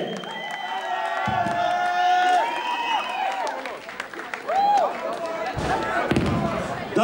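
Concert audience in a small cultural venue claps and whoops after a punk band's set, the crowd noise steady and fairly loud with high whistles and cheers over it and a couple of sharp knocks near the end.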